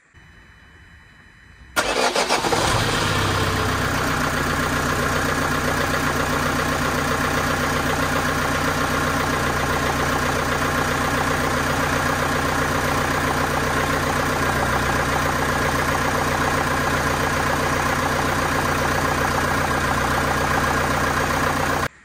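High-mileage diesel car with 360,000 km cranks briefly, catches and settles into a loud, steady clattering idle that runs on unchanged for about twenty seconds.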